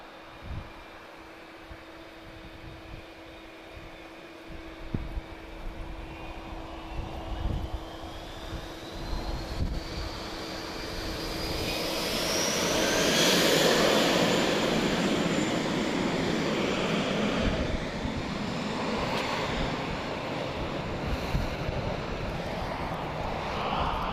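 A Danish Air Transport Airbus A321 departs Lisbon Airport, its engines first a distant whine that swells into a loud, broad roar and then fades slowly, with no voices.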